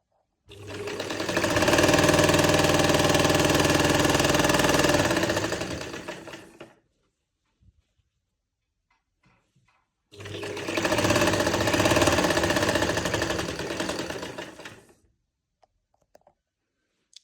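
An electric sewing machine stitches fabric along a fitted garment seam in two loud, steady runs of rapid mechanical whirring, each lasting several seconds and separated by a quiet pause.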